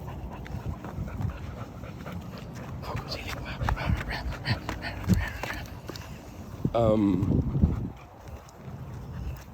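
A dog whimpers and whines during a meltdown, with panting, shuffling paws and scattered thumps around it, and a rising whine stands out toward the end; a voice is faintly present.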